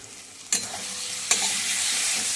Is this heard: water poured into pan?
no